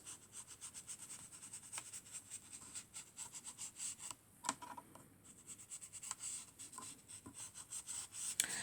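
Pastels scratch and rub across paper while an Easter card background is coloured, a quiet, close, rhythmic strokes pattern with short pauses between passes.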